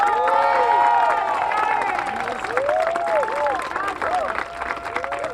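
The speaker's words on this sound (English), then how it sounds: "Huge round of applause." Crowd applause at an outdoor vigil in West Hollywood, with scattered cheers and whoops rising over the clapping, lively and sustained from start to finish.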